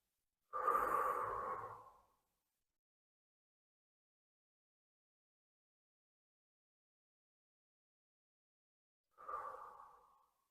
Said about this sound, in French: Nous allons prendre 2, 3 respirations profondes ainsi.